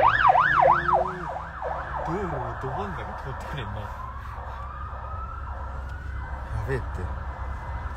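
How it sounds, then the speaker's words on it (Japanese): A fire engine's siren wails loudly in fast sweeping cycles as it passes close by, then drops to a steadier, fainter tone. Traffic rumbles underneath, and people talk over the siren throughout. "これ救急車。 消防車。"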